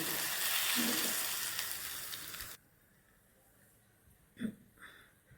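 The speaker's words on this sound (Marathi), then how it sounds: "आपल्या आंबोशीवरती आता आपण ही वरून अशी खमंग फोडणी घालणार आहे" A hot spice tempering with cloves is poured over raw mango amboshi, making a loud hissing sizzle that fades, then a quiet pause broken by a couple of faint knocks.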